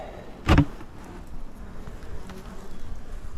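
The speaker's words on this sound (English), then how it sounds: "is a decent amount of bees in there" Honeybees buzzing inside a swarm trap as its top is opened, with one loud close burst of buzzing up front followed by a steady, softer hum of the colony.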